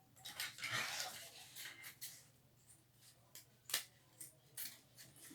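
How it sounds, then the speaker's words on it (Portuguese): Scissors snip away excess fabric and bias binding on a sewn stroller backpack, a handful of sharp, quiet clicks and snips spaced irregularly, with faint handling noise between them. "Vou cortar o excesso."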